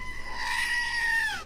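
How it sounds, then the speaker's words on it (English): A goat screams in one drawn-out, high nasal bleat, loud and close, lasting just over a second and tailing off at the end. "We need a mid-briefing goat scream."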